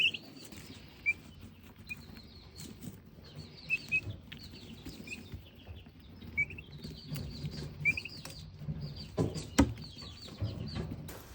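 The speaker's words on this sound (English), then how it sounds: "These are baby turkeys." Baby turkeys on an Amish homestead farm give faint, high peeping chirps that repeat at irregular intervals over a quiet background with soft rustling and scratching.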